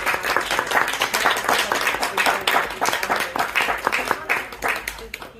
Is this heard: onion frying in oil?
no